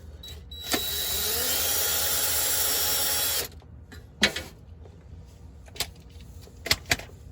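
Bolts being removed from the transmission pan of a 2014-2018 Silverado, with a power tool whirring steadily for about three seconds, then sharp metallic clanks and clicks at intervals, close and fairly loud.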